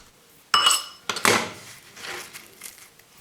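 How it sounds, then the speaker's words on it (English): A knife chops trimmed rhubarb stems into 1-inch chunks on a board, giving a few sharp knocks followed by softer scraping and clinking, close up with no talk. "As you can see, I'm chopping into 1-inch chunks."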